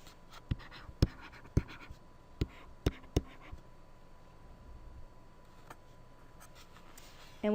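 Handwriting on paper while noting a slope as rise over run, soft scratchy pen strokes with several sharp taps and clicks spaced irregularly over a quiet room background, close and faint, with no talking.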